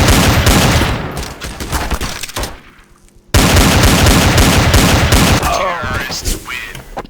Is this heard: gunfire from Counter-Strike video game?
yes